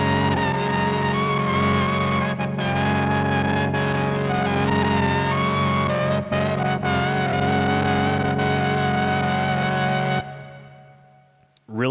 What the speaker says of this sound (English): Reverb's back.